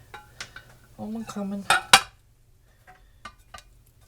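A heavy pot clanks and scrapes while being handled in a home kitchen during beef curry canning, several close metallic knocks and clinks in a short burst, then quiet with faint clatter.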